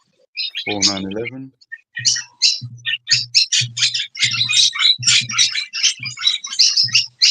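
Several Indian mynas chirp and squawk in a quick, busy run of calls, close and loud, while someone speaks briefly near the start.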